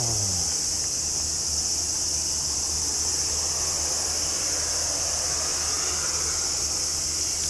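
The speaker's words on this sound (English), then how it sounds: "So many cicada." Dense, steady cicada chorus on a summer day in Tokyo, a loud continuous high buzzing drone with no pauses, a faint low rumble beneath it.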